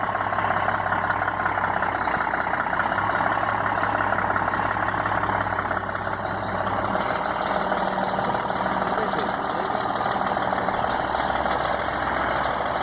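A Scania truck engine idles with a steady, loud mid-low rumble and faint knock, holding evenly throughout as a voice talks over it.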